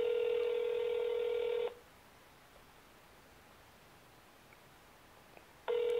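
A telephone ringback tone sounds as two long steady buzzes separated by about four seconds of faint hiss, with no talking.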